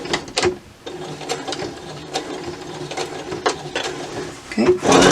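Sewing machine stay stitching along the waistband hem of a ribbon skirt, a steady mechanical whirring with brief rhythmic bursts and clicks running for several seconds, close and moderately loud.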